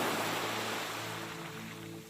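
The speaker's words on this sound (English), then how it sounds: "feel the gentle rhythm of the waves" Gentle ocean waves wash in a soft, continuous hiss that eases slightly in loudness, steady and fairly faint, with no speech over it.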